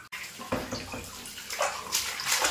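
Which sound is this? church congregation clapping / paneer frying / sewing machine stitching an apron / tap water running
tap water running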